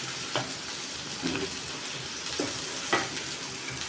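Chopped onion fries in hot oil for a soppu bele bassaru, a soft continuous sizzle broken by a few light clinks and stirring scrapes, with no one talking.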